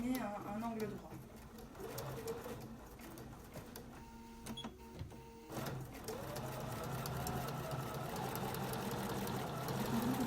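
A Bernina sewing machine stitches bias binding onto fabric, its quick mechanical needle pulses running in a short burst beneath someone talking in French, with light background noise.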